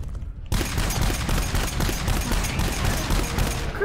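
Rapid, dense gunfire in GTFO erupts after a half-second of near silence and keeps hammering without a break, loud and close, with overlapping bursts that read as several weapons firing at once.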